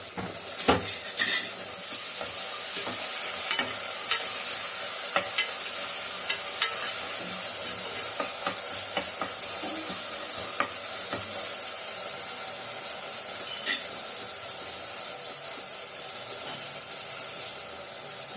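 Onions and tomatoes sautéing in a pan for a Tamil kuzhambu, a steady close sizzle with scraping spoon strokes and occasional clinks of a utensil against the pan throughout.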